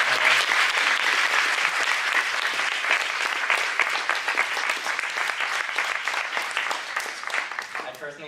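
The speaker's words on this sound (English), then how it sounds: "Can we have a round of applause for the" Sustained audience applause after a panel discussion on ethics, dense steady clapping filling the room and slowly thinning out over about eight seconds.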